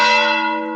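A church bell on the Camino de Santiago del Norte in eastern Asturias rings a single loud, close strike with a rich, slowly fading resonant tone.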